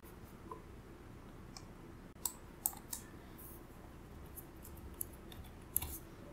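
A few sparse, light key clicks tap out a number on a Windows 10 computer keyboard over a steady low background hum.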